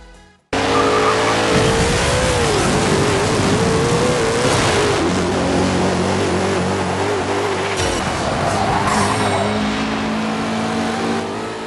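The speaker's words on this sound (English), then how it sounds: "Just listen to the roar of the engine." A car engine in the racing game Forza Street roars continuously at high revs, with tire squeals and shifting pitch as it accelerates, loud and close throughout.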